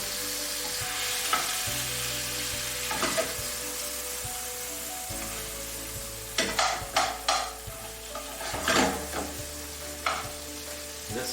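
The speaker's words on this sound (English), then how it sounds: "in goes the butter, and we're just going to stir that around" Shrimp scampi frying in a pan with butter stirred in gives a steady sizzle, with a run of spoon scrapes and clacks against the pan toward the middle of the clip.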